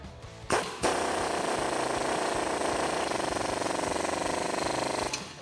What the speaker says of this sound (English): thread in from the bottom, and tighten it down with your 21 deep socket